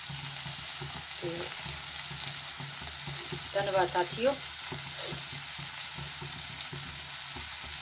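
Hot oil sizzles and crackles steadily up close, with a brief spoken phrase and a few clinks partway through.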